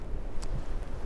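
Strong wind on the Baltic Sea coast buffets the microphone in a low, rumbling roar that fills the brief moment, loud and gusty, with a faint rattle partway through.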